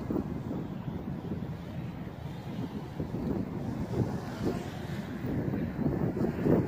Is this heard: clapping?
no